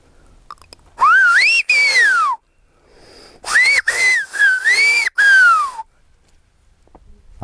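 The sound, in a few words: Silbo whistled language from Gran Canaria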